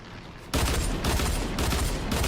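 Rapid gunfire rattles in the Fortnite video game during an Ice Storm match, dense continuous bursts with brief pauses, loud and close.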